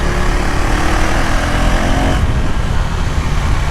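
KTM Duke 390R motorcycle engine heard while riding, a loud, steady close-up drone with a slight shift in pitch partway through, accompanied by wind rush and no speech.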